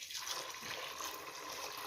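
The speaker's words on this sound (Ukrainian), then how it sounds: "І зараз заливаю водою, трошки тепленькою водою, щоб скоріше закипіла." Warm water poured from above over washed wheat for kutia, a soft, steady gushing pour that starts abruptly and continues evenly, close by and without speech.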